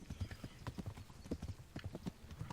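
Horse hooves galloping in the video game Kingdom Come: Deliverance, a steady fast clip-clop rhythm close and loud throughout, with a faint voice murmuring underneath.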